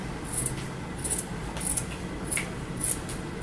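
Fabric being cut with scissors into a tube shape for a craft project, a series of soft, regular snipping and rubbing strokes roughly every half second, close and faint, with no talk.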